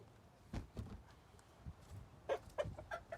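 A Taiwanese gamecock rooster gives a few soft, short clucks, faint and close, with light shuffling sounds between them.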